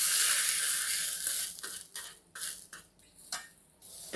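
Unripe jackfruit palya with curry leaves and grated coconut is stirred in a pan, giving soft scraping and light sizzling with bursts of stirring noise, close and fairly quiet, with no talking.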